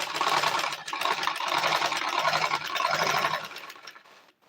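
A sewing machine that has not been oiled and seems to be malfunctioning runs steadily for about four seconds with a dense, whirring mechanical drone, then winds down and stops near the end.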